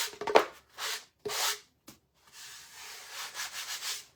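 Wood sanded by hand with a sanding sponge for honey bee decor: several close, raspy back-and-forth rubbing strokes with short pauses between them, no talking.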